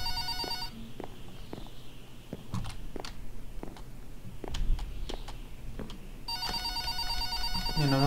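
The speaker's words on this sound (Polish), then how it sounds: "Dobra, telefon mi dzwoni, ale nie wiem gdzie ja go mam" A telephone ringing in Minecraft, a bright trilling bell in two bursts at the start and the end, with soft footsteps and clicks in between.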